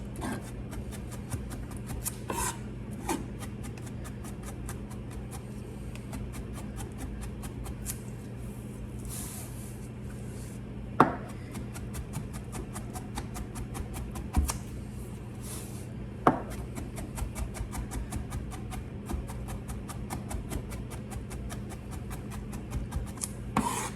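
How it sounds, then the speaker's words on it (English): A knife mincing garlic on a cutting board, rapid rhythmic chopping taps repeated in quick bursts over a low steady background hum, with a few louder knocks along the way and no speech. "So we're gonna run over this garlic a lot of times until I can get those small little pieces that I am desiring in this mince."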